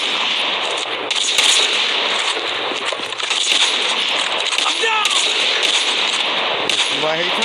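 Dense, sustained gunfire from the video game Call of Duty, sniper rifle shots among a steady clatter of game combat at close range, with a voice talking over it at times.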